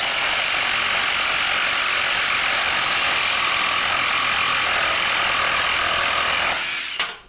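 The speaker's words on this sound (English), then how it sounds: "now we're going to cut some metal. I'll let you hear what this sounds like right now." A DeWalt 20-volt cordless reciprocating saw buzzes loudly and continuously as it cuts metal, a harsh rattling whine that holds steady for several seconds before stopping abruptly.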